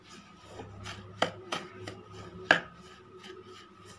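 A spatula scrapes and stirs fried dry coconut and powdered sugar in a pan for rava ladoo, producing soft rubbing strokes punctuated by two sharper knocks against the metal, with no talking.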